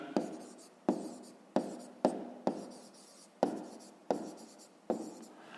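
Pen or chalk writing by hand during a fifth-grade maths exercise, a series of about nine crisp close taps and short scratching strokes at an uneven pace, with no talking over them.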